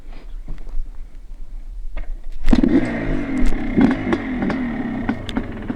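A Yamaha Blaster ATV, fitted with an upgraded LTZ400 rear shock, sits idling quietly on a trail, then roars up loud and close at about two and a half seconds, revving and rattling steadily as it rides off.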